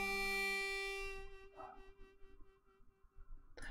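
Dexter, a pet dog, barks several times in short bursts at a moderate distance, the yaps standing out briefly over a steady electronic tone from a home gaming setup.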